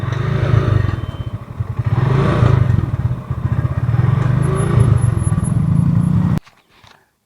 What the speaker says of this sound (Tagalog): Huwag nyo munang ipasok yung motor.